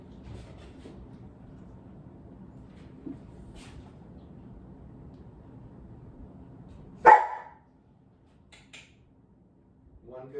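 Hudson the dog lets out one sharp, loud bark after a stretch of low background murmur, then a few faint yips follow near the end, with a person talking quietly nearby.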